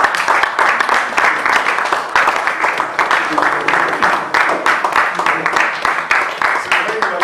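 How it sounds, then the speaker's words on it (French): An audience at a French-language conference-debate applauds to welcome a speaker, many hands clapping in a loud, sustained and slightly uneven patter that carries on for several seconds. "par des acclamations."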